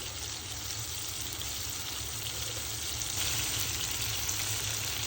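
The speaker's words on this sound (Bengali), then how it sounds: "এখন আমি 1 চামচ পরিমাণ রসুন বাটা দিয়ে দিব।" Garlic paste goes into a pan of prawns and onions already frying, giving a steady, close, even sizzle that swells slightly toward the end with no talking.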